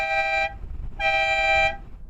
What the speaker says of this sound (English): I press a button, then I get dual horns.